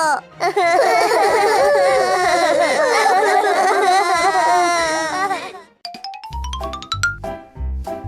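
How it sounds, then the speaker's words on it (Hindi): A baby cries loudly and continuously in a cartoon home, wailing with rising and falling pitch for several seconds, followed by a chiming jingle and thumping music. "फिर ये रोने की आवाज कहाँ से आ रही है?"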